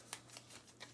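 Deck of game cards being shuffled, with three or four quick riffling bursts close by in a quiet room.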